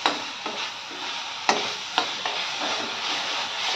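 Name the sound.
frying small fish curry in pan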